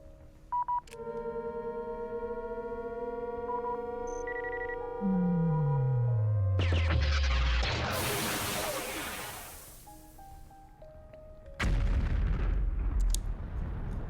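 The Death Star's superlaser firing at a planet in a Star Wars strategy game: electronic beeps and tones, a descending power-up whine, then a long roaring blast and a second deep boom.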